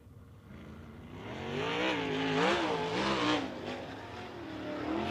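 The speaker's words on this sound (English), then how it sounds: "First two cars onto the racetrack." 410 sprint cars at RPM Speedway roar onto the track for qualifying, engine pitch rising and falling as they rev and pass, loud and fairly close with crowd ambience.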